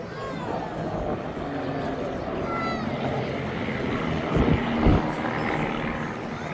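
A formation of Van's RV-8 propeller aircraft from Team Raven drones steadily during an air display at Duxford Summer Air Show, swelling briefly louder as the planes pass before settling back to a distant hum.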